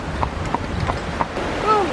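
Horse hooves clip-clop steadily on a path at the Gap of Dunloe in Ireland while the horse is ridden, faint rhythmic steps under wind and outdoor noise.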